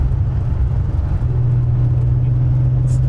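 Old car with an enlarged engine and a late-1970s Nissan gearbox, heard from inside while driving as a loud, steady low engine and road rumble.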